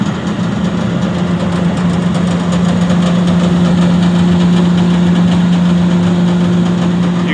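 Electric motors of an Oliver 240 gravity table run steadily, producing a loud, continuous mechanical hum with a strong low drone and vibration throughout, with no talking.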